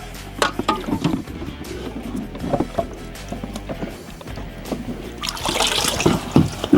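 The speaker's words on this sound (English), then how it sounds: "So we're going to rub them down in the water" Derusted metal parts get rubbed and sloshed by hand in a container of water, close splashing and swishing with intermittent scrapes and knocks, rising into heavier splashing toward the end.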